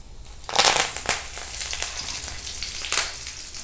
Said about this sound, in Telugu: ఇప్పుడు తాలింపు పెట్టుకుందాము